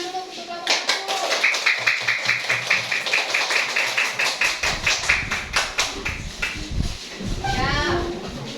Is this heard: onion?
no